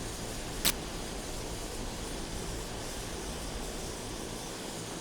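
Engine of an A-29B turboprop taxiing in a flight simulator game, a steady, fairly quiet broadband hum and whine that stays even throughout, with one brief click early on.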